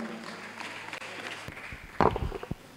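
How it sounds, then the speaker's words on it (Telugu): A church congregation at a feast-day celebration breaks into loud clapping, starting partway through over a murmuring crowd and building into a dense burst of applause before tapering. "విచారణ గురువులతో కలిసి గట్టిగా చప్పట్లు కొడదాం"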